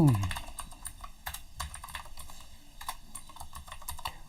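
Fingers type on a computer keyboard while a document is written in Microsoft Word, giving a run of close, crisp key clicks in uneven bursts with short pauses between them.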